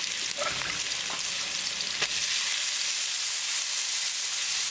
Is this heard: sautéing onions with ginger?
yes